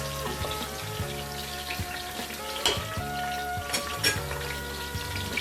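Onions sizzle in hot oil in a pan while being stirred, producing a steady close frying hiss broken by a few sharper scrapes and clicks from the stirring, with a low hum underneath and no voices.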